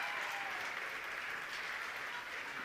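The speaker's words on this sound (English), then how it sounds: "let's give her a big round of applause" Audience applause at a college's 50th anniversary gala, a dense, fairly distant wash of clapping from a large crowd that holds steady throughout.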